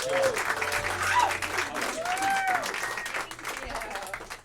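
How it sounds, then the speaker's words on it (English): Audience at a student stand-up comedy showcase claps to welcome the first comic, moderate applause with cheering and whoops rising over room noise, fading toward the end. "a huge round of applause for our first comic"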